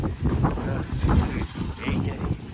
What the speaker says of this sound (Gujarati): વાડી વિસ્તારમાં પવન આવે છે મસ્ત